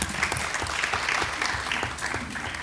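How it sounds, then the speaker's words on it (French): Audience at an architecture lecture breaks into applause, a moderately loud patter of many hands clapping for a few seconds, with no voices heard over it. "On peut applaudir Nadia"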